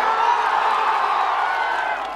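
A large crowd at a Khesari Lal Yadav and Shubhi Sharma stage show cheers and claps in a dense, steady roar that stays loud and unbroken throughout.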